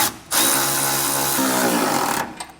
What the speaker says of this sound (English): line these up and simply bolt this bracket back down